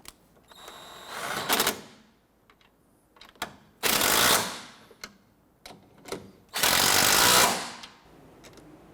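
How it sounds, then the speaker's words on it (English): Bolts on the water pump of a 1992-1996 Toyota Camry 2.2L four-cylinder are run down with a ratchet, bursts of rapid clicking alternating with separate sharp taps and clacks, close and fairly loud. "Now we can go ahead and tighten down all three."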